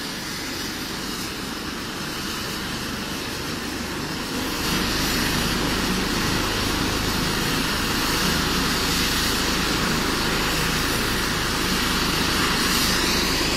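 Close, loud rotor and engine roar from an air ambulance helicopter on an asphalt pad in Warsaw runs continuously, growing louder partway through and then holding steady with no voices.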